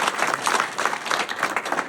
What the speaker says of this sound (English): before you give, I hope, a round of applause to them